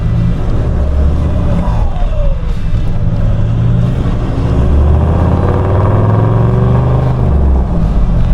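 A diesel truck engine rumbles steadily on the road during a drive after a wash, with a low continuous drone and faint shifting tones throughout, no talking.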